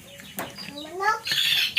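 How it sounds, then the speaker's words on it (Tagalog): A chicken clucks in short rising calls close by, with a few bird-like chirps and some rustling; a person speaks quietly in the background at an outdoor traditional ritual. "Manok."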